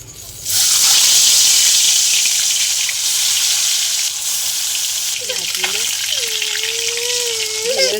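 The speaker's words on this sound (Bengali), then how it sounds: "কড়া গরম হয়ে গেছে, তেল দিয়ে দিচ্ছি, সর্ষের তেল। মাছগুলো ভেজে নেব।" Fish fry in hot mustard oil in a pan with a loud, steady sizzle that starts abruptly and continues throughout, with a voice briefly audible over it near the end.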